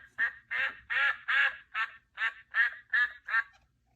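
A mother duck at a pond quacks repeatedly, calling to her ducklings: nine loud, close quacks in a steady rhythm, each a short nasal burst with a brief gap between, heard alone with no talk.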